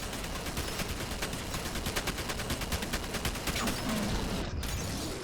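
Rapid automatic gunfire from a minigun in the video game F.E.A.R. expansion, a dense rattling burst that runs steadily for several seconds, loud and close, then briefly cuts out near the end with no speech.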